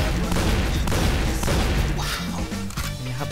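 Rapid video game gunfire triggered by a mouse macro on a Razer DeathAdder 2013 mouse, a dense, loud, unbroken burst of shots blurring together for about three seconds.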